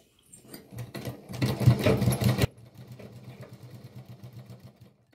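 A sewing machine stitches over piping on a dress neckline, a rapid mechanical chatter that starts up, runs loud and fast for a couple of seconds, then carries on more quietly at a slower rhythm.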